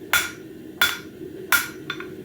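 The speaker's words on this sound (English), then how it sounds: "by hammering back on the corners, I can kind of correct that and bring it back to the 90" Three sharp metal hammer blows land about three-quarters of a second apart, close and crisp, as a hammer knocks the corners of a bird feeder hanger frame back to square, followed by a lighter tap.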